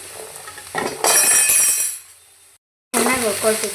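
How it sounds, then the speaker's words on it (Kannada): Garlic frying and being stirred in a pan for a goat head and leg curry, a bright crackling sizzle with clinking stirring strokes that cuts off briefly, then returns under a speaking voice. "ಬೆಳ್ಳುಳ್ಳಿ ಹಾಕ್ಕೊಂಡು ಚೆನ್ನಾಗಿ ಹುರ್ಕೊಳ್ತಿದ್ದೀನಿ"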